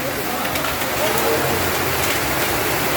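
Hailstones pelt the roofs of cars parked in front of a panchayat office in Puthur. A dense, steady, loud patter and rattle of impacts runs without break, close by.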